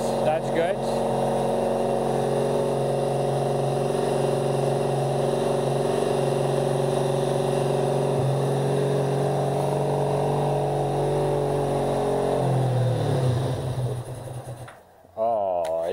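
A cafe racer motorcycle engine idles steadily after carburetor tuning, a loud, even drone close to the microphone that dips and then cuts out near the end.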